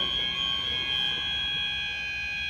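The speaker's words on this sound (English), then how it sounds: "Another fire alarm." A fire alarm sounds continuously with a shrill, steady high-pitched tone that holds unchanged the whole time.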